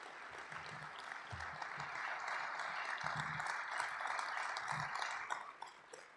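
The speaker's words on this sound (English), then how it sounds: "Ladies and gentlemen, how a nice round of applause for all of our coaches here tonight." Sustained audience applause at an evening awards ceremony for vocational-technical coaches, a steady wash of many hands clapping over six seconds, moderately loud with a few stronger swells, no talk over it.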